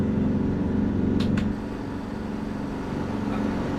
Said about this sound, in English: I think she left her engine on.